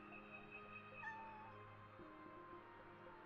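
A cat meows in a video game, a short rising and falling call over a steady hum of game background sound, with no one talking.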